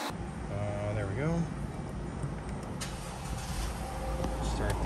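A 2011 Jeep Grand Cherokee 3.6L engine, just back from a water pump replacement, runs with a steady low hum near the microphone, with a couple of brief chimes and someone talking over it.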